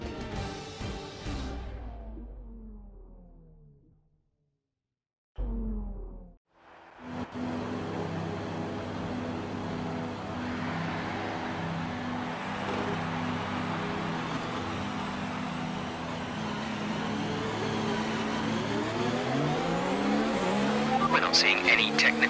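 Formula 1 cars in the F1 2019 video game revving loudly together on the grid at Budapest's Hungaroring, launching into a sustained, rising multi-car engine roar with tire squeal, after a brief near-silent gap.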